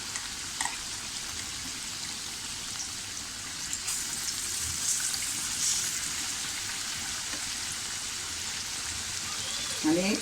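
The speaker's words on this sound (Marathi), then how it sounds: "आणि मंद गॅसवर आपण छानपैकी यांना खरपूस भाजून घेऊया" Bread patties frying crisp in a pan over a low gas flame, a soft continuous sizzle with faint crackles, steady and moderately close throughout.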